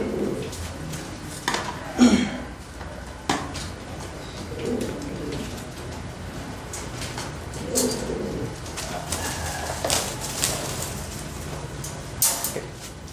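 Low, soft coos from a pigeon with warts repeat every few seconds close by, with occasional fluttering and light handling noises in between.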